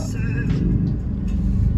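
A car drives through the streets of Marseille, its steady low engine rumble and road noise constant and close throughout.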